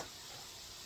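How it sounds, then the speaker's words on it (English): Steak and noodles sizzle steadily in a stir fry pan with Japanese barbecue sauce, a constant close hiss with no talk over it. "You can hear the sizzle start to change."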